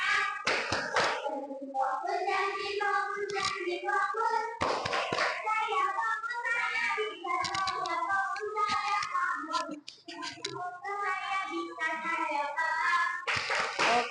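Third-grade schoolchildren in a classroom clap a rhythmic 'tepuk janji fokus' chant, bursts of hand claps in patterned beats mixed with their chanting voices, close and lively throughout.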